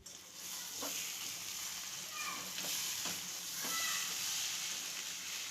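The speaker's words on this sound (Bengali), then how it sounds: "এটা একটু ভালো মতো মিশিয়ে নেব চিংড়ির সাথে মশলাগুলো" Prawns being stirred with spices in a pan for Bengali malai curry, a low steady sizzle with several spatula scrapes and taps spaced a second or so apart, quiet and close, without speech.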